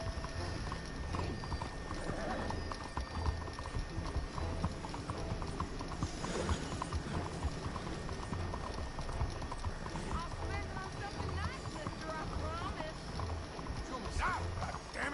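Horse hooves clip-clop in Red Dead Redemption 2, a steady rhythmic trot on a town street with ambient game noise and occasional voices mixed in throughout.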